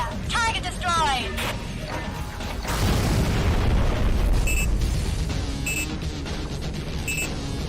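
A deep underwater blast rumbles as a target is destroyed in the submarine game AquaNox, a long heavy roar following a voice, with short electronic beeps sounding repeatedly over it.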